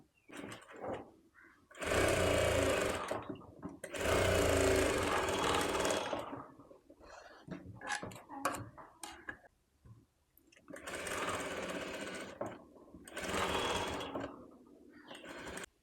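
A sewing machine stitches the lining of a baby's silk skirt-and-top outfit, running in three close, steady bursts with quiet pauses between them.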